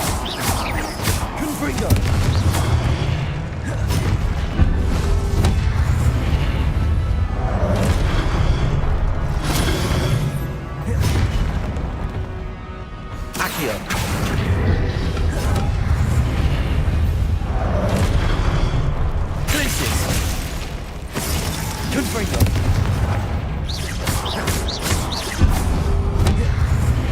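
Confringo spell blasts from Hogwarts Legacy go off again and again in combat, a run of deep booms and thuds mixed with game music and battle noise, loud throughout.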